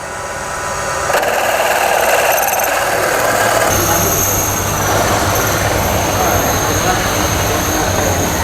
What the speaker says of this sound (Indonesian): Ini bentar lagi selesai nih ngebornya.